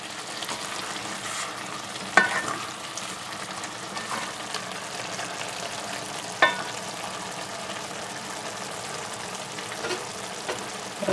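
Squash and chicken frying in a pan on a stove at medium heat, a steady close sizzle with occasional sharper clinks of stirring, continuous and alone without talk.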